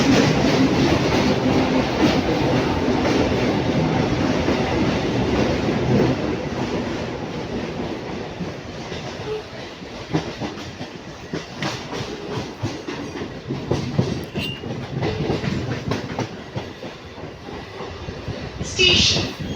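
A local train on the Ranaghat–Murshidabad line runs near Kalinarayanpur station with a continuous loud rumble and rhythmic wheel clatter from inside the coach, with some voices mixed in.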